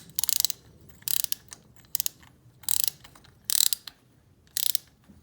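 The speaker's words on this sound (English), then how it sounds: "Get in with your spark plug wrench," A ratcheting spark plug wrench works a motorcycle spark plug loose, the sound coming in six short bursts of rapid clicks with brief pauses between, close and loud with no voices.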